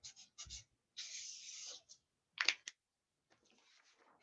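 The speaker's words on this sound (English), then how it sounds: "underneath, we're going to write number 4" A pen writes a number on paper in short scratchy strokes, a few quick bursts with pauses between, faint and close with no voice over it.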